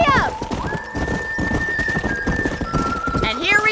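A horse in the Red Dead Redemption video game whinnies loudly as hooves clip-clop at a steady trot, with character voices talking over the hoofbeats and a second neigh at the end.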